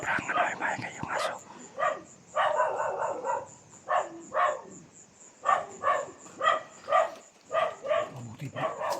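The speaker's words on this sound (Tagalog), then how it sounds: "Kasi yung bahay, maingay talaga yung aso." A noisy dog at a house barks again and again in short, evenly spaced bursts, fairly clear but a little way off, with a faint steady high tone running underneath.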